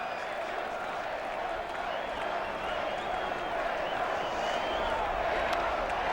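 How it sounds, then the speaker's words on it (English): Baseball stadium crowd at a 1998 Seattle at Boston game cheering and applauding, a continuous roar of voices and clapping heard from a broadcast position, steady and sustained with no pauses. "Listen to this crowd too."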